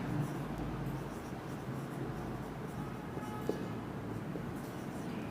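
Pen writing a definition of an equation by hand on paper during a maths lesson, a steady soft scratching that runs throughout, close and moderately loud, with no speech over it.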